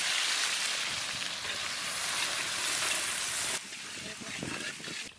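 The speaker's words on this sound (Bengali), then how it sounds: "তেলে পেঁয়াজ দিয়েছি" Onions fry in hot oil at the start of a village-style goat mutton curry, making a loud, close, steady sizzle that drops slightly partway through, with a voice talking over it.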